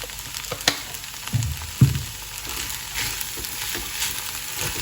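Sago pearls sauté in a pan with turmeric powder: a soft, steady sizzle of frying runs throughout, broken by a few scraping stirs and light clinks of a spoon against the pan.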